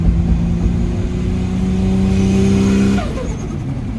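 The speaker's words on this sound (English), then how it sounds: "Now we're gonna go ahead and drive it, and let's see how she drives." Tuned right-hand-drive Toyota Supra with a 2JZ engine on a standalone ECU, driving and accelerating with a loud, steady engine drone that climbs in pitch, then lifts off sharply near the end.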